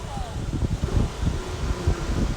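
Gusty wind buffets the microphone in rough, low rumbles, with a muffled voice faintly beneath it.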